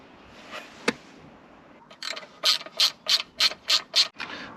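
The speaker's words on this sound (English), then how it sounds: "So I've taken all the screws off." Screws are removed from a Mercedes SL R230 Bose audio amplifier with a hand tool. A series of about seven rhythmic ratcheting rasps comes close and fairly quiet, after a single sharp click.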